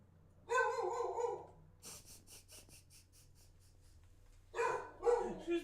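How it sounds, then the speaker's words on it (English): A female dog barks from inside her crate in two loud close bursts of barking, separated by a stretch of quick panting-like breaths. "She's barking from inside her crate, which she never does."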